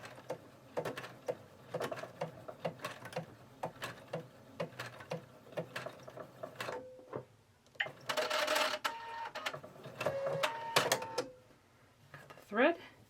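A sewing machine slowly stitching a button on, its rapid back-and-forth mechanical clatter running in bursts, close and moderately loud, with someone talking over it.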